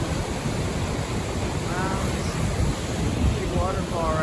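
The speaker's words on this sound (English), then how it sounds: "Big waterfall right here." A big waterfall and river along the John Muir Trail near Palisade Lakes, giving a steady broadband rush of falling water with wind noise on the microphone and a brief voice over it.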